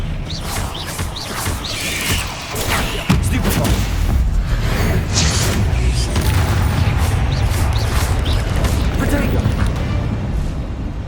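Booming blasts from the Confringo spell in the Hogwarts Legacy video game, loud and crashing through a chaotic spell fight, with a heavy impact about three seconds in and rumbling bursts after, over voices.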